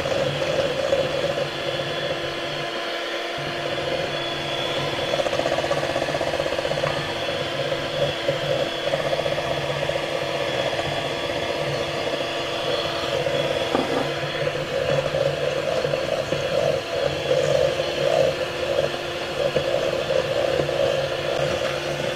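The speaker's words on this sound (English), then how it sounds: "I'm going to whisk that a little bit before I add the sweetener." An electric whisk beats four egg yolks for a sugar-free mousse cake, a steady close whirring drone with faint rattling that runs unbroken throughout.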